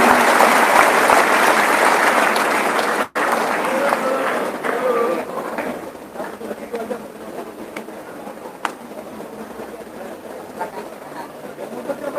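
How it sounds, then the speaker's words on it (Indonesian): Applause from an audience at an Indonesian comedic religious talk, a broad steady clapping wash that is loud at first and then thins and fades, with voices mixed in. "Tepuk tangan semua Bapak-bapak Ibu sekalian"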